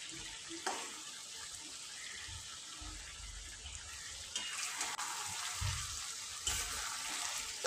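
Mutton pieces frying in a pan, a faint continuous sizzle with occasional low stirring thumps and scrapes, heard close and quiet with no voices.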